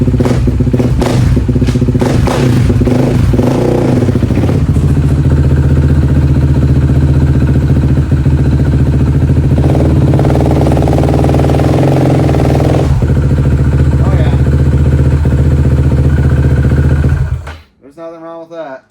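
A 2007 Suzuki LTR450 ATV engine runs loud and close with a fitted new clutch, its idle rumble and revving clatter continuing steadily before cutting off near the end.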